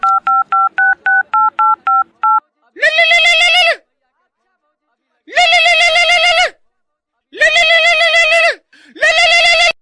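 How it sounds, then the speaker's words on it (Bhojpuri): Phone keypad dialing: about nine quick, evenly spaced touch-tone beeps, followed by several long, loud warbling tones separated by silent gaps. "भैया के फोन अभी लगबै छिए"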